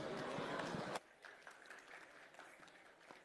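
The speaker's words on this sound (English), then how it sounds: "A round of applause, ladies and gentlemen, once again." Conference audience applauding, a dense burst of clapping that cuts off after a second, followed by quieter scattered claps and room noise.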